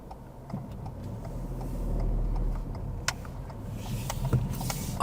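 A car's turn signal indicator ticking in a steady, regular rhythm inside the cabin, faint clicks over low engine and road hum while driving, with no talking.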